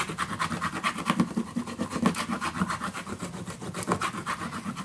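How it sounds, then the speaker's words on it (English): A bone folder or burnishing tool is rubbed back and forth over paper on a scrapbook mini album, a close, steady scratchy rasping with quick repeated strokes and no talking. "So I'm just going to start in the middle to burnish it all."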